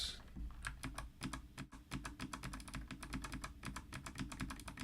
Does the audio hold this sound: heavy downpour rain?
no